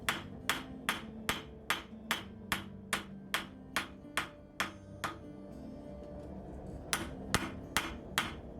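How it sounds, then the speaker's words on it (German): Hand hammer forging a Viking-style knife blade on an anvil: a steady series of about a dozen sharp, ringing metallic strikes at an even rhythm, a short pause, then a few more blows, close and clear. "Zwischendurch schmiede ich die Klinge noch länger, damit das Messer die Form kriegt"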